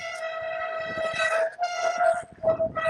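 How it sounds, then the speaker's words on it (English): A train rolls past close by at a rail crossing, a steady horn-like tonal drone with rumbling wagon noise that swells and dips over three seconds, no voices. "we're riding away from the train, and we got another train blocked our way"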